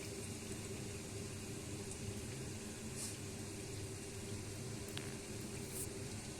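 Bengali egg devil chops fry in oil over a medium flame, a faint, even crackling hiss that holds steady throughout with no talking.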